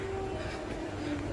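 Inside a near-empty, clean passenger train in motion: a steady, close rumble of the carriage and running gear, with a faint sustained tone riding over it and no talking.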